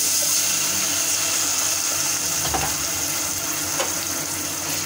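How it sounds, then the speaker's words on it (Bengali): A constant rushing pour of water into a pan of coriander and turmeric, close and loud, with a couple of faint clinks partway through. "সামান্য একটু পানি দিয়ে দিলাম"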